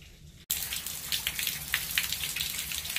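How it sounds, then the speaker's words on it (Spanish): Steady rain pours down during a wet afternoon, a dense, continuous patter of drops hitting surfaces close by, starting abruptly after a brief quiet moment and holding loud and even throughout. "Bueno, pues se vino el agua de abuenas."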